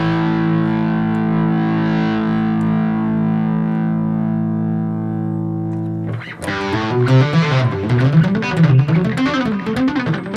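An electric guitar with a warm humbucker pickup plays through a Boss Katana amp with a compressor: a long sustained distorted chord rings out and fades, then quick driven single-note runs follow, loud and close.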